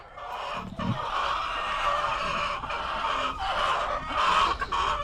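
Young laying hens cluck repeatedly inside a coop, with irregular calls rising over a steady background hum, fairly close and without talk.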